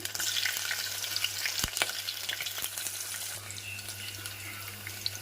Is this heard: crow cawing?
no